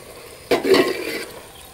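Pumpkin halwa made with jaggery, ghee and cardamom being stirred in a pan: one scraping, soft sizzling stir starts suddenly and trails off over about a second, close by with no talking.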